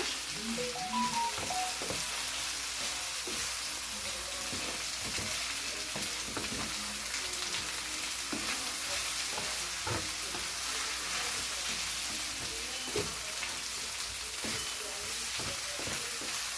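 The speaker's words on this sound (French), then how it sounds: "Je mélange." Food sizzles and fries in a pan on the stove, with a steady hiss and intermittent scraping, clinking stirring strokes at close range, no talking.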